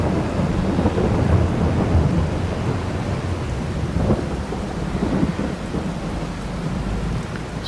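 Steady rain pours down with low rumbling thunder rolling underneath in Farming Simulator 22, a continuous dense wash of storm noise with no voices.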